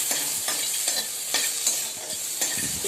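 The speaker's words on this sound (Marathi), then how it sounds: "त्यात मी एक दहा बारा काजू टाकते छान परतून घेऊया" Cashews and tomatoes sauté in a hot pan, a steady sizzle broken by several scraping stirs at a loose rhythm, close and fairly loud with no voices.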